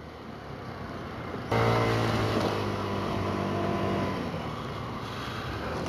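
A 2024 SYM Symphony 125 SR scooter engine cruises at light throttle with a steady, close drone that steps up sharply, its pitch rising briefly before settling into an even hum with wind noise.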